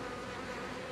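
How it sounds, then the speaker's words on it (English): Irritated honeybees swarm during a hive cutout, a dense continuous buzzing drone that stays loud and steady throughout. "So the bees are getting more and more irritated."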